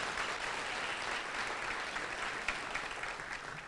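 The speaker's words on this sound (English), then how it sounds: "Quick round of applause once again for Elisa" An audience at a creek and watershed symposium gives a steady round of applause, with dense clapping that holds at an even level and tapers slightly near the end.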